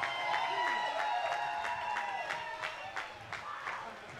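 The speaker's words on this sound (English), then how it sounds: "Give a round of applause" Audience applause and cheering for a jazz band at a live club show, a steady dense wash of clapping with a sustained crowd roar, while music tones ring beneath and an announcer's voice carries over the top.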